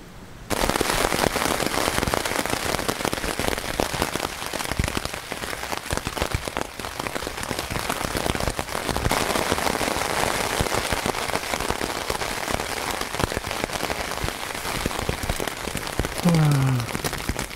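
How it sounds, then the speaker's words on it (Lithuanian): Steady rain drums on a tent at night in a forest, a dense continuous patter with a few sharper drops and pops throughout. "Nu ir aišku, dabar dar lyja"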